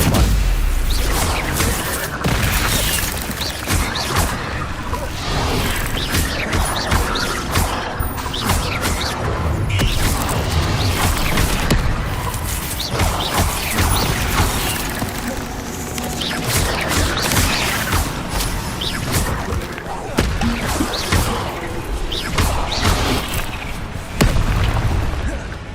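Spell impacts from Stupefy in Hogwarts Legacy combat: dense, continuous crashes, thuds and magical bursts pile up over roughly 26 seconds, with sharper hits recurring in a busy battle mix.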